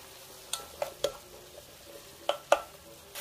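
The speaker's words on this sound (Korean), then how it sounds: "그래서 호박을 먼저 볶고 나서 넣겠습니다." Zucchini stir-fried in a pan: a soft, quiet sizzle broken by a handful of sharp spatula taps and scrapes against the pan.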